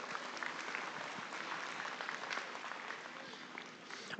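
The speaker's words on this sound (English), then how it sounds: "let's congratulate these kids with a big round of applause" Steady audience applause in an arena at an FFA market hog show at the Nebraska State Fair, a dense, even clapping crowd heard from a distance for the full few seconds without pause.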